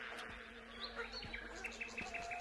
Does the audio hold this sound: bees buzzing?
yes